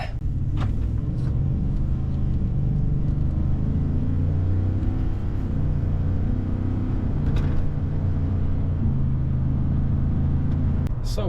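A Ford F150 work truck rumbles along on a test drive, its engine a steady low drone with faint interior rattles and brief clicks, heard from inside the cab with no one speaking.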